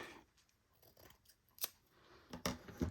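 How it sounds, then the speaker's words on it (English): Scissors snip through a piece of lace during a journal-making craft session: a few close, crisp cuts that gather into a quicker run of sharp snips at the end, with no talking. "let's cut this piece of lace"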